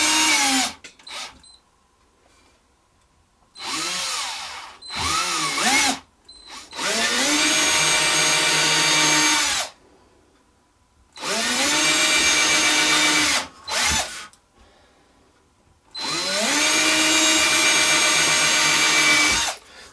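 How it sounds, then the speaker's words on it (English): A power drill bores holes in wood for the nails of a homemade weaving loom, with repeated whining runs that rise and fall in pitch and long sustained stretches separated by silent pauses, close and loud with no talking. "So there we got the holes are drilled and ready to put in the nails."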